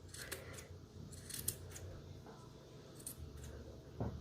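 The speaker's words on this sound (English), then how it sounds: "my little tassel still needs a trim. So let's cut your hair." Scissors trim a blue thread tassel for a planner, giving several quiet, crisp snips close up in a calm room.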